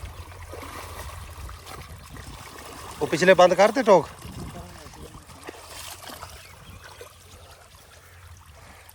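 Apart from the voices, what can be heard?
irrigation water flowing into field beds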